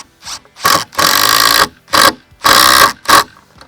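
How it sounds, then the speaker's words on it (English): A power driver sinks a wood screw into a POLYWOOD Adirondack chair, whirring loudly in close bursts of varying length, some short pulses and two longer runs, with silent gaps between. "you drive the wood screw in"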